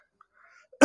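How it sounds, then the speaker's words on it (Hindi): A single sharp, loud cough bursts out at the end of a quiet stretch, from someone speaking during a religious talk. "सॉरी मुझे खांसी हो रखी है।"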